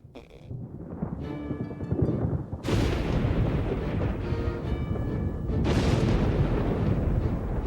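A lightning strike in Pokemon Pokopia sets off loud booming thunder in two heavy rumbling bursts that swell and roll on continuously, with no voices.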